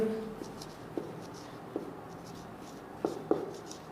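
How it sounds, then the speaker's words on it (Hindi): Someone writes on a board during a maths lesson on divisibility rules, with a few soft taps and brief marker squeaks spaced out over a quiet background. "तो एक बार लिख देता हूं यही चीज में,"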